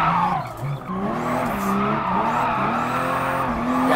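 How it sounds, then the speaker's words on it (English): A 2019 Toyota Supra with maximum upgrades drifts in GT Sport on sport hard tires, its engine droning loudly and steadily while the tires squeal continuously through the slide. "This car is born to drift right now, man."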